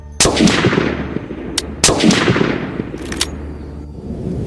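Two sharp, loud rifle shots from a hunting rifle in a WW1 war film battle scene, each followed by a rumbling echo, with faint distant firing later in the scene.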